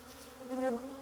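Honey bees buzz near a hive frame during night queen grafting, a brief, faint droning hum that swells slightly in the middle.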